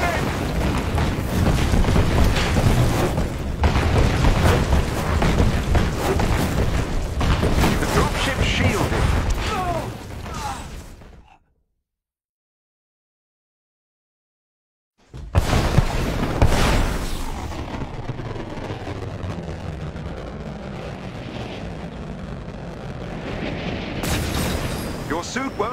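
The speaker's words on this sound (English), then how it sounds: "Their artillery's targeting you. Incoming." Artillery shells exploding in the action game Marvel's Avengers: heavy booms and roaring blasts over character voices talking, cutting to a few seconds of total silence midway before the barrage resumes.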